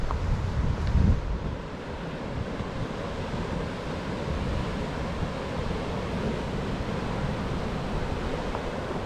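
Ocean waves crash and surge against the rocks at Spray Point on a Mornington Peninsula ocean beach, a steady loud wash with a heavier burst early on, while gusting wind buffets the microphone throughout.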